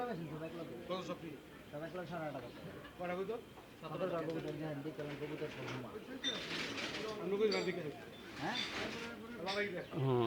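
At the Saruliya pigeon market in Bangladesh, many pigeons coo in overlapping rolling calls, steady and close, while people talk throughout over the crowded market noise.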